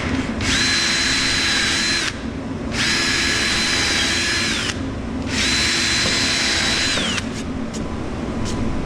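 A power drill bores holes into a wooden tote storage rack in three separate runs of about two seconds each, loud and close, the motor's whine holding steady through each hole with short pauses between.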